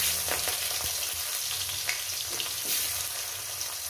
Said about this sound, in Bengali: পেঁয়াজটাকে আমি সুন্দর করে লাল লাল করে ভেজে নেব।